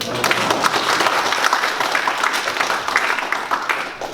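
A lecture audience at a university forum breaks into sustained applause, many hands clapping in a dense, steady roar that stays loud from start to finish with no talking on top.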